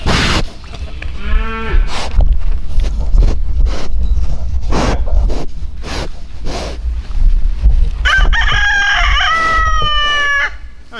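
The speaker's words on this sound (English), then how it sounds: "a crowing war, to see who can crow the most" Several roosters crow one after another in a loud, close crowing contest, with repeated broken calls near the start and near the end, amid rhythmic barnyard thumps and no talk.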